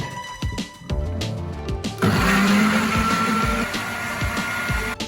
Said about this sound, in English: Now let's give that a blend.